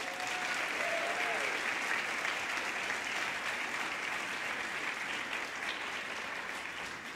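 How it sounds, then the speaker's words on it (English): Sustained, even applause from a large audience at an International Women's Day event, a steady wash of clapping heard from a distance at moderate volume throughout. "another round of applause"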